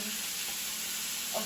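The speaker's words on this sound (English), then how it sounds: "I'm going to add a bit of butter so it doesn't stick" Butter sizzles in a hot pan while chicken fried rice is being made: a soft, steady hiss that stays even and low in level for a brief moment.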